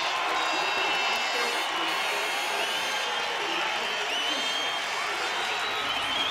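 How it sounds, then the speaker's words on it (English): A dense, steady roar of a large crowd cheering at a world swimming championships women's 400 metres freestyle final fills the whole span, loud and continuous with no pauses. "You ready for the cheer?"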